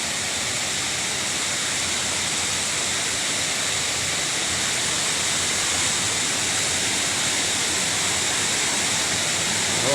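Loud, steady roar of rushing water from Magsaysay Falls in Atimonan, constant and broadband with no breaks, close by and filling the whole scene.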